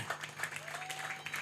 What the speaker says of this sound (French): on applaudit encore plus fort les candidats, les candidates